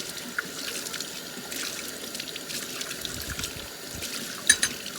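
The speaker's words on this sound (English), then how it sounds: "then you rinse it." A glass vessel rinsed under running tap water, a soft continuous pour and trickle with faint splashes and a couple of light clinks near the end, quiet and close.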